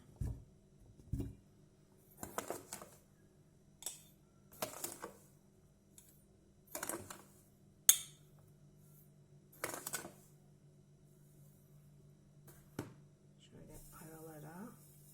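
Peach pieces are dropped one by one into a glass jar, giving a series of soft separate clinks and thuds with pauses between them, faint and close, with a low steady hum underneath.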